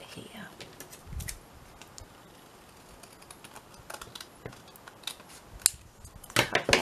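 Scissors snip through paper while a 5 pocket folio is being made, giving a few short, close crisp cuts spread among quiet handling noise, with a louder cluster near the end.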